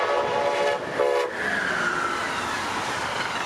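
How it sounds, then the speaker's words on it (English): A US train horn sounds in two short blasts close by, followed by the rushing rumble of a passing train. "a normal train horn in the US usually sounds something like this."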